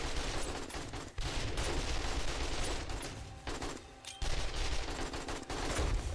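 Sustained gunfire from the video game 7 Days to Die, rapid continuous bursts mowing down zombies with only brief pauses, loud and close.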